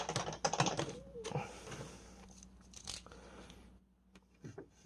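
Cutting a small piece of material during repair of a crashed RC F-15 jet model: a series of close, crisp clicking snips and scrapes, clustered at the start and again near the end, with no talk.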